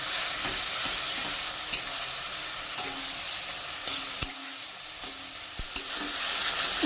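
Mustard paste fries and is stirred in a pan with elephant foot yam stems, producing a continuous, close sizzle punctuated by sharp spatula scrapes and clicks.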